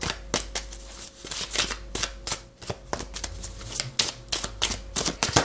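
Tarot cards shuffled and drawn by hand: a steady run of crisp, close snapping and riffling clicks, some sharper than others, continuing throughout with no speech over them.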